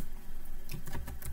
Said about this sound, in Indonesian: lalu kita ketikkan perintah service